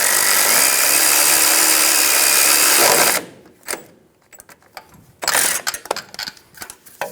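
A power tool snugs down the bracket bolt on a power steering line of a 2005-2015 Toyota, running loud and steady for about three seconds, followed by scattered clicks and short mechanical bursts.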